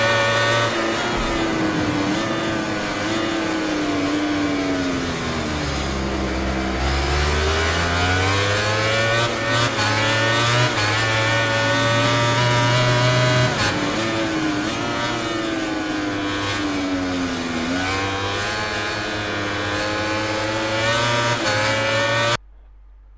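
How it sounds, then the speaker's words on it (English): A race car, heard from inside, brakes hard, downshifts through the gears and returns to full throttle, its engine note sweeping down and climbing again loud and continuous for over twenty seconds before cutting off. "then I'm braking hard. Then I'm going right, then I'm downshifting, and then I have full throttle."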